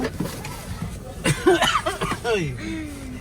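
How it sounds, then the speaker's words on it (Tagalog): A short cough comes amid casual talking and a brief chuckle, close and clear. "Ubo."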